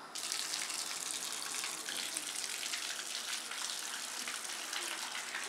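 Bath water runs steadily from a tap, a continuous hissing splash that stays even and fairly soft for several seconds, with no talk over it.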